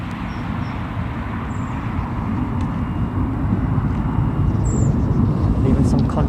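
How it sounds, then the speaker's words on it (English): An aircraft flies over an airport, a broad steady roar that slowly builds in loudness and holds throughout, heavy and continuous with no other distinct sounds. "Got some aircraft flying over actually."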